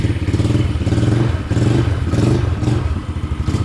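A motor vehicle engine catches and begins running, throbbing in loud rhythmic pulses with clattering mechanical thumps, close by and without talk.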